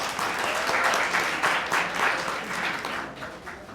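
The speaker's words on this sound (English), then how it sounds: "Give yourselves a hand." Audience applause at a Houston Dynamo FC club presentation, a dense, sustained crowd of clapping hands filling the room for several seconds and thinning slightly near the end, with no speech over it.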